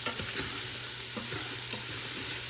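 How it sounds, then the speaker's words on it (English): Mushrooms are stirred into a sizzling beef bolognese in an Instant Pot, with a constant frying hiss and a few soft scraping strokes of the spoon, close and fairly quiet. "let's go ahead and add our mushrooms. Go ahead and give that a nice stir."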